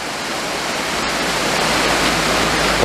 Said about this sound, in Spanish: Mira qué cañonazo de agua. Mira. Y sale a presión, ¿eh?